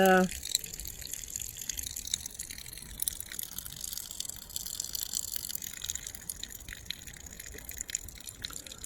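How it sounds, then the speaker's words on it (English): Water pours and gushes steadily out of a pot of cooked rice being drained at a campsite, a continuous splashing stream heard up close for several seconds. "So draining all the water there."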